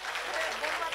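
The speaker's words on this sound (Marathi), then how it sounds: "टाळ्या वाजव यांच्या ज्योतिरावाला" An audience at a lecture on women's conditions breaks into a short, dense burst of clapping, steady and moderately loud throughout the brief moment.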